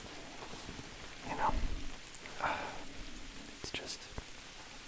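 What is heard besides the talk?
rain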